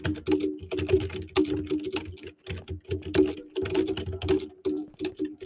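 Rapid typing on a computer keyboard during a competitive online game, with fast bursts of clacking keystrokes separated by short pauses, close and fairly loud with no talk.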